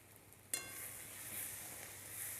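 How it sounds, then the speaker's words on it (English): Chili powder, coriander powder and garam masala hit hot oil over a high flame, a sudden hiss at the start that settles into a quiet, steady sizzle, close and alone. "So let the spices fry in the oil."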